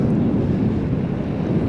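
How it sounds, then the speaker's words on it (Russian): Strong wind buffets the microphone during a solo bicycle ride near Yaroslavl, a loud, steady low roar with gusting turbulence and no speech over it. "Дождя нет, но ветер временами такой лютый."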